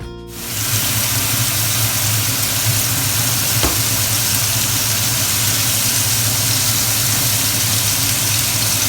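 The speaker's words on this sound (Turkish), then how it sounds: "Şimdi hiç beklemeden direkt bunları kızartmaya geçiyorum." Steady, loud sizzling of sliced döner meat frying in a single layer in a hot pan, with a low constant hum underneath and a brief click partway through.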